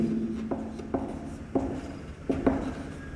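Chalk or marker strokes scratch across a classroom board in a chemistry lesson, a series of short, distinct scraping taps and rubs at an irregular pace, fairly close and moderately quiet, with no talk over them.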